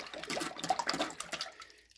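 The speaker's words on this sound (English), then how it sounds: "I just dunked it underwater just to kind of see" A Feyachi RS-30 reflex sight is plunged into water, giving a short burst of splashing and bubbling that fades out within about two seconds.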